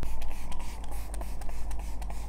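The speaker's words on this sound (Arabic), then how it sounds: "والفيكس سبراي ده بتاع مايت سينما، ده بيبقى حلو قوي ان هو بيهدي شكل الباودر" Makeup fixing spray from Mate Cinema misted onto a face in a series of short, soft hissing bursts, close and fairly quiet, with no talking.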